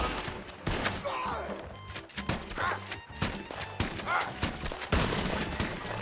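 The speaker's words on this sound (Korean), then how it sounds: "총소리 듣고 달려왔잖아!" Video game gunfire in Red Dead Redemption 2 zombie mode, several sharp reports in quick bursts with thuds and movement between them, fairly close but modest in level.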